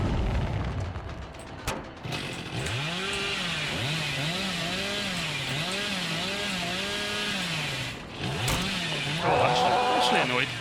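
Hillbilly's chainsaw in Dead by Daylight revving loudly and continuously, its pitch rising and falling in repeated waves, close up, ending with a few sharp clanks.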